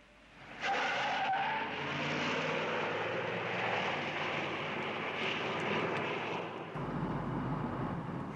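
Car engine starting and roaring off in a tense getaway, a loud rising motor surge with tire noise sustained for several seconds before a slight drop, no voices over it.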